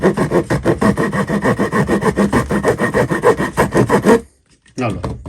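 Small blade of a Victorinox Swiss Army pocket knife sawing through wood, a rapid rhythmic rasping of back-and-forth strokes up close that stops abruptly before a brief final scrape.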